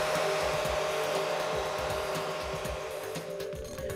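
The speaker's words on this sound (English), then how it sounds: "Here's a normal household hair dryer." A household hair dryer runs steadily up close, a continuous airy whoosh with a motor hum beneath, loud and unbroken throughout.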